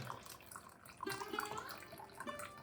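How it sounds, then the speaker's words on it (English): A tap runs cold water into a basin of hot water, giving a soft, continuous splashing pour that grows a little fuller partway through, heard quietly and alone. "I'm going to add some cold water to make it warm"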